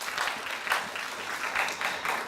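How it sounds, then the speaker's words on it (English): An audience at a youth English presentation contest claps briefly, a short burst of moderately dense applause at medium distance. "A round of applause, please."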